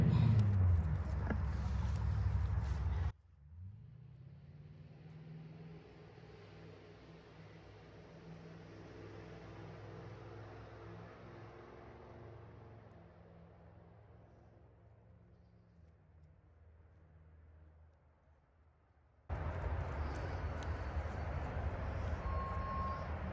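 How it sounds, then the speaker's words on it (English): Low, broad road rumble of a vehicle passing by swells and slowly fades over about fifteen seconds, with no voices. "Pardon the road noise, somebody driving by, and now an Amazon delivery."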